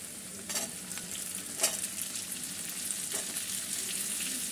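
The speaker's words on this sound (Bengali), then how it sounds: "এবার আমি পেঁয়াজগুলো দিয়ে দিচ্ছি।" Onions fry in a pan for gravy chilli chicken, with a steady, moderate sizzle and a few scraping stirs breaking through.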